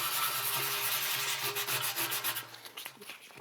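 Sandpaper rubbed by hand over a dented metal fuel tank, rapid rasping back-and-forth and circular strokes, close and steady, thinning into shorter scuffs at the end.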